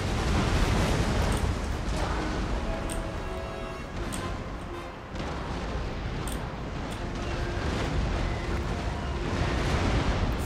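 Ship cannon broadside fire in Empire Total War, a dense, sustained rumble of booming artillery blasts rolling across naval combat, loud and continuous with overlapping shots and no clear gaps.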